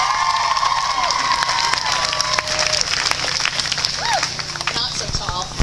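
Audience applause and cheering at a SlutWalk 2013 keynote, continuous crowd clapping with scattered whoops and shouts, fairly loud and sustained throughout.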